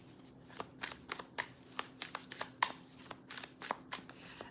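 Tarot card decks shuffled by hand, a rapid series of crisp riffling bursts and soft flutters in a quiet room, close and fairly faint with no talking.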